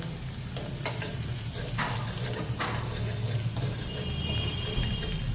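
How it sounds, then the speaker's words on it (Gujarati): Chopped garlic frying in hot oil as a tempering step, giving a steady close crackling sizzle with a few louder spatters, no talking. "ડાયરેક્ટ લસણ. લસણ. હા, લસણ થોડું લાલ કલરનું થાય ને ત્યાં લગી એને ચડવા દેવાનું."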